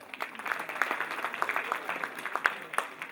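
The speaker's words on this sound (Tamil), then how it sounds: "மீண்டும் ஒரு முறை உங்கள் அன்பான கரகோஷங்கள்." Audience applause after a song at a school event, dense continuous clapping from a crowd, fairly close and even in loudness throughout.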